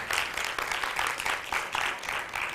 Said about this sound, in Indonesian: bolehkah beri tepuk tangan yang meriah?